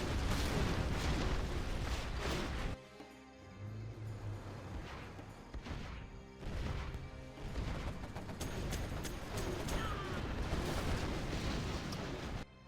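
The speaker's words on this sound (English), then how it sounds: "Quad cannon goes down." A quad cannon is destroyed in a Generals Zero Hour match amid heavy battle noise: loud booming explosions and crashes, a brief lull, then more rumbling blasts and gunfire through the rest of the stretch.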